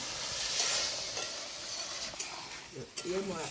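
Spices for a jackfruit curry sizzle in a hot pan, a steady frying hiss with scraping stirs, close and fairly quiet, with a voice speaking briefly near the end.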